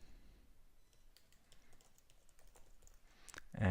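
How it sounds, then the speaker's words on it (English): Quiet, light tapping of keys on a computer keyboard as a username is entered, a sparse run of soft clicks ending in a louder clatter. "you can go and type in a username over here"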